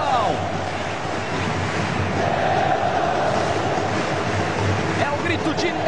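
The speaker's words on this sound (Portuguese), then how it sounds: "É o grito de leão, leão. É a torcida do Fortaleza." Fortaleza supporters at Arena Castelão roar and chant in a broad, continuous stadium wash during a football match against Sport Recife, while a commentator talks over the crowd.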